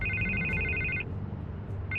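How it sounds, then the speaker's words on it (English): A telephone rings in the video game Batman: The Telltale Series, two electronic trilling bursts with a pause between them, over a low background rumble. "I can't get the phone to stop ringing."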